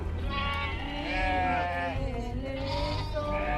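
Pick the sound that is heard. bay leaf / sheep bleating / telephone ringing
sheep bleating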